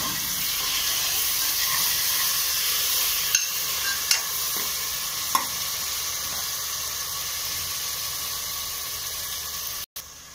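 Fennel seeds sizzle in hot oil as a tempering for khushka, a steady close hiss of frying with a few light clinks of stirring.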